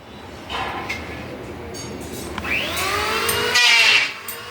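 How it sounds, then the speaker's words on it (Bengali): A mini paddy threshing machine, a wheelless fixed type, runs with a steady mechanical roar and rising whine, close and fairly loud, with faint voices mixed in. "ধান মারাই মেশিন, একবারেই সাফাই হয়"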